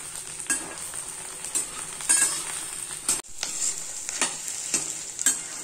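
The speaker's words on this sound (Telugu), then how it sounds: "ఎండు మిర్చి అలాగే చింతపండు యాడ్ చేసుకొని దోరగా వేయించుకుందాం" Dried red chillies and tamarind frying in a pan, a bright continuous sizzle broken by repeated scraping stirs of a spatula, close and fairly loud with no talking.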